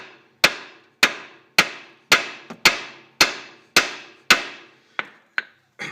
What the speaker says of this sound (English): get some vibrations into here by kind of smacking the handle